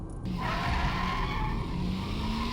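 A car speeding at about 140 km/h lets out a sudden roaring, skidding burst, a loud sound effect in a spoken horror tale, with a squealing tone sliding over a harsh, sustained rush.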